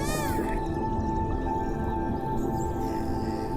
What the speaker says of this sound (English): Each dolphin identifies itself with a signature whistle that lasts less than 1 second